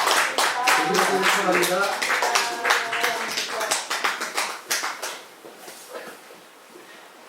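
A church congregation claps in a dense burst at a Christmas service celebrating Jesus' birthday, loud at first and then thinning to scattered claps, with a voice speaking over the start.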